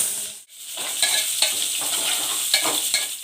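Onion, cinnamon stick, bay leaf and kasuri methi frying in hot oil for pulao, a loud continuous sizzle with rhythmic scraping stirs and a brief dip in the hiss near the start.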